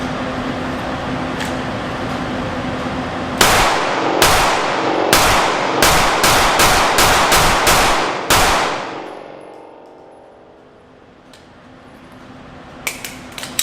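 Glock 19 pistol fired in a rapid string of about eight sharp, loud gunshots with ringing decay, followed by quiet outdoor ambience and a few faint clicks.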